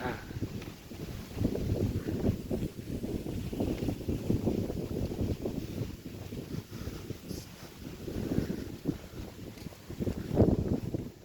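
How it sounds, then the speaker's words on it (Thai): Cool wind gusts across the microphone outdoors at Khao Phra Angkhan hilltop temple in Buriram, a loud rumbling buffet that surges and eases in waves throughout, with no voices over it. "ลมเย็นดีมากเลย"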